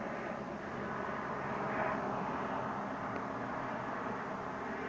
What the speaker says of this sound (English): That was the airplane on my opposite side.